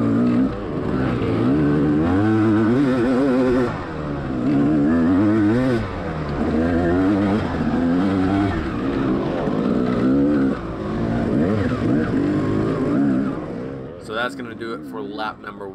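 Dirt bike racing on a dusty, rocky track, an engine revving and shifting up and down in pitch up close throughout, with a rider talking over it.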